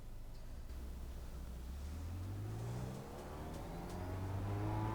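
A car engine in a racing simulator game revs steadily and loudly, its pitch climbing and falling through gear shifts, with no talk over it.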